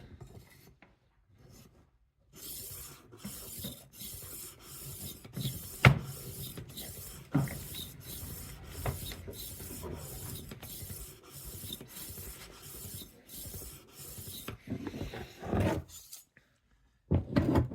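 A 12-inch Henckels chef knife drawn across a whetstone in a long series of regular, rhythmic rasping strokes, close and distinct, with short quiet gaps at the start and end.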